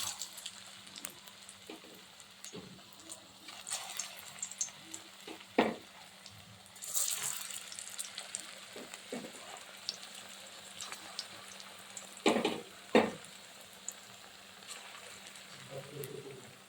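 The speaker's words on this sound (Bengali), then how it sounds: "এদিকে কড়াইতে আমি রিফাইন তেল দিয়েছি ভাজার জন্য এবার তেলটা গরম হয়েছে এবারে আমি একটা একটা করে তুলে দেবো সোয়াবিনের কাটলেটগুলো" Soybean cutlets drop one by one into hot refined oil in a kadai, giving a steady low sizzle with several louder splashy bursts as pieces go in, close and moderately quiet, with no talking.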